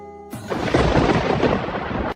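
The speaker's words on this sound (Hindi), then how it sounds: "ये बिना मौसम की गरजती हुई बारिश हमें क्या संकेत देती है?" A loud, close thunderclap from an unseasonal rainstorm bursts in after a brief musical tone and rolls on as a dense, broad rumble before cutting off.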